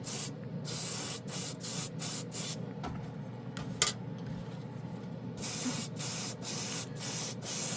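An airbrush sprays gold chrome ink drawn from a cheap paint marker in repeated loud hissing bursts, each lasting about half a second with brief gaps between them, plus a longer quiet pause in the middle.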